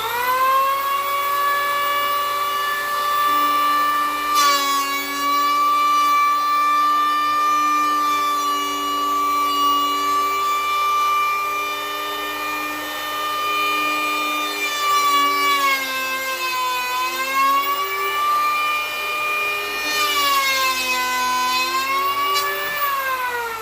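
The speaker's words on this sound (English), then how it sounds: "So this is a DeWalt electric planer." A DeWalt electric planer makes a pass over wood, a loud, steady high whine that holds for the whole stretch and rises and falls in pitch around the middle and near the end, with no talking.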